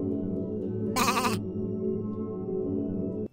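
A sheep bleat as a sound effect, one short wavering cry cutting in over a sustained droning tone that continues alone afterward.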